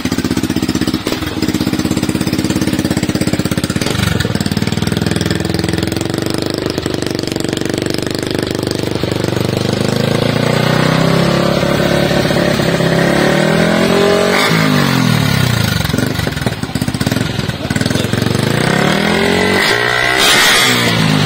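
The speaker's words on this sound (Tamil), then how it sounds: "நம்ம இப்போ பைக்கை வந்து ஸ்டார்ட் பண்ணி பார்த்தலாம்." A Yamaha MT15 motorcycle engine fitted with an Akrapovic exhaust runs loud and steady, its rumble rising and falling with several throttle revs near the end.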